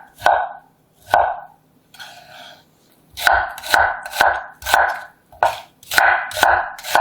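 A knife finely chopping pear on a cutting board, loud close thuds in slow separate strokes at first, then a steadier run of chops with short crunchy bursts between.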